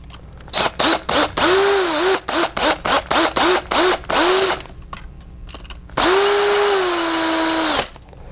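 A power drill whirs in a rapid series of short bursts while fitting an IEC contactor and overloads, then runs for one long, steady whine; loud and close, no talking.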